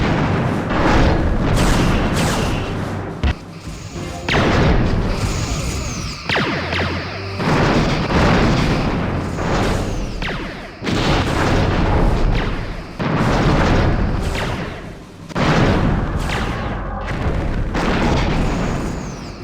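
Starship torpedoes fire and explode again and again in Star Trek Bridge Commander, loud booming blasts with crackling tails arriving every couple of seconds in a dense, continuous barrage.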